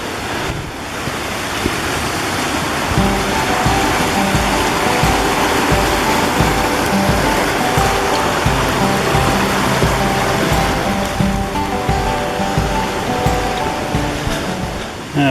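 A mountain creek along the Missouri Gulch Trail rushes over downed logs near 10,800 feet, a continuous broadband wash of flowing water, close and loud, with some wind buffeting the microphone and no talk.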